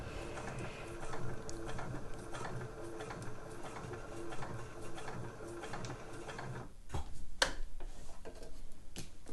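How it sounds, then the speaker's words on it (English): Sewing machine stitching fabric for slipper uppers, a steady rapid mechanical ticking and whirring that runs continuously, close and moderately loud, with a few sharper clacks toward the end and no speech. "Obviously the longer the stitch, the faster the sewing, the faster the machine pulls it through."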